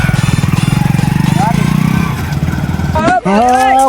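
A motorcycle engine runs in a steady, loud, throbbing putter at close range, and voices speak over it toward the end.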